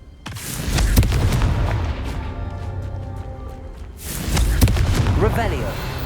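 A Confringo fire spell from the Hogwarts Legacy video game bursts as a loud, booming blast with crackling debris, followed by a second strong impact about four seconds later, all fairly close.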